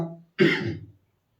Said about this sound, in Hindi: थोड़ा खांसी आ रही है, बहुत ज्यादा दिक्कत है हमको।